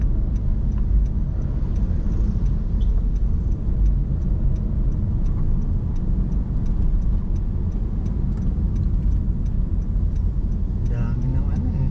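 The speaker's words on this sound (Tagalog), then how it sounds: "Hindi ko ma-overtake ang itong mga motor." Motorcycles riding together in a race group, a steady, loud engine drone throughout with wind rush and faint higher revving, heard close from among the riders.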